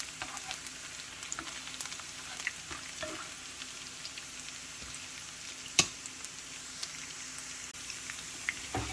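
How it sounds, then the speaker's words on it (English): Garlic and onion sauté in a pan for Kapampangan pork asado, giving a steady close hiss of sizzling oil with scattered small pops and one sharper crackle midway. No voices are heard. "I'm going to saute the garlic and onion"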